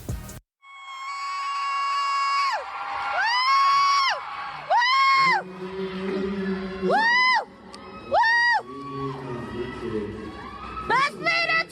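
High-pitched fan screams and cheering from a crowd ring out in repeated long, wavering bursts that rise and fall, with a lower rumble of crowd noise between them, loud and close throughout.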